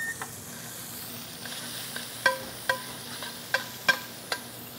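Whole anchovy fillets sizzle in a pan, with a steady hiss of frying oil broken by several sharp scraping clicks as a utensil stirs them, close and fairly quiet.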